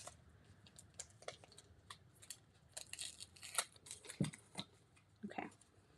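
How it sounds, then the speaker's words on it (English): Tape is peeled off paper during a craft, heard as quiet, close, intermittent crinkles, rips and small snaps that come in short bursts, with no one talking. "So now I can take the tape off."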